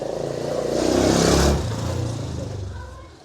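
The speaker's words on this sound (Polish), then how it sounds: "Następny motor." A motorbike engine roars up close, swelling loud as it passes and then fading away down a narrow street in Marrakesh, Morocco.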